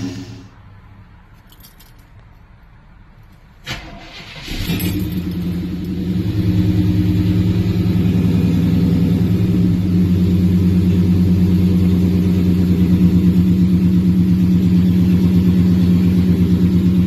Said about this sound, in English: on a very cold start, it takes a few revolutions for it to actually crank